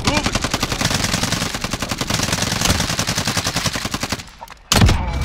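Rapid automatic gunfire in a battle royale video game, a steady fast stream of close, loud shots for about four seconds, a brief pause, then another sharp burst.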